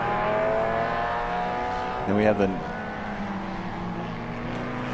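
Vintage race cars, among them a 1958 Volvo PV444, run on a track at a festival of speed, a steady engine drone with one nearer car swelling briefly past, while someone talks over it.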